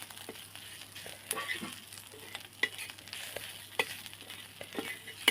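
Green chili thecha being stirred and mixed in a pan, with soft scraping strokes over a faint sizzle and occasional sharper clinks of the spoon, close and fairly quiet.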